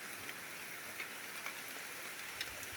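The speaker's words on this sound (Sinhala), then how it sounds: "වැස්ස නම් ලොකුවටම එනවා" Steady rain hissing down through forest tree cover, with a few sharper drops standing out now and then, constant and fairly soft, no voices.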